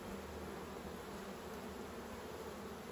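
Honeybees buzz as frames are handled at an open hive: a dense, steady, close swarm drone filling the whole stretch, with no talk over it.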